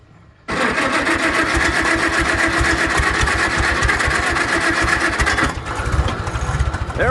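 Small engine fitted with a new Chinese carburetor, not yet adjusted right, catches and runs at a loud, steady, slightly uneven idle up close, with a brief quiet lead-in before it fires.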